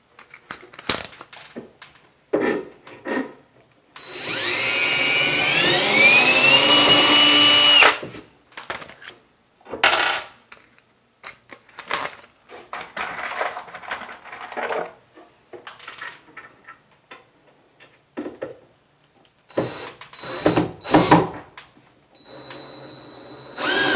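A power driver runs screws into a 94-inch unit during assembly, with one long whining drive burst of a few seconds followed by short clicks, knocks and handling clatter, close by and without speech.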